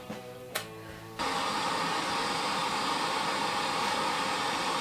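An old stereo radio in a home art studio bursts into loud, steady broadband static after a brief click and short tuning noise, the hiss holding constant and close with no voices.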